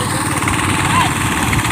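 Engine of an irrigation water pump running on a farm, a continuous even drone with a steady throb and faint wash of flowing water, loud and close.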